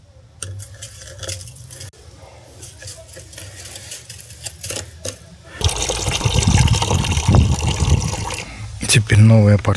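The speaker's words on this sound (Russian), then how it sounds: "Заливаем воды." Water pours into a pool sand filter tank, starting as faint trickles and clinks, then swelling to a loud, steady gushing fill for the last few seconds.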